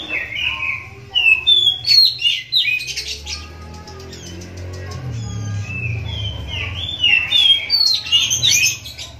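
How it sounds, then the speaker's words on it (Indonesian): A hand-fed bar-winged prinia (ciblek) chick chirps in quick, high, repeated bursts of tweets close by, with soft low handling rumbles underneath. "karena ini ciblek, ini burung burcil ya"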